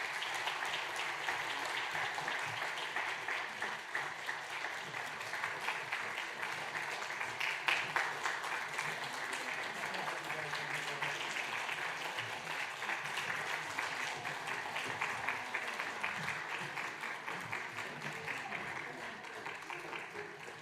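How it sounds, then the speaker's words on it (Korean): A church congregation applauds during a gift presentation at an infant baptism service, with sustained moderate clapping and faint voices underneath. "여러분 아이들을 축복하는 마음으로 박수 부탁합니다"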